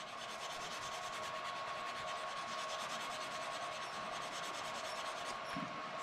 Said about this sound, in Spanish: Entonces, lijamos.